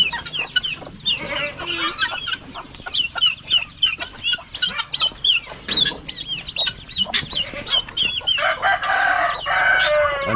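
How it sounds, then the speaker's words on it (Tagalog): Chickens and a rooster on a farm cluck and squawk close by in rapid, overlapping bursts, while repeated loud crowing rings out over the flock. "Ang sisiyo ng ating mga manok."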